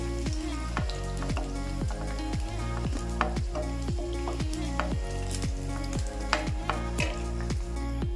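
Stuffed brinjal frying in oil, a constant bright sizzle up close with rhythmic scraping and stirring strokes and an underlying hum, no one speaking.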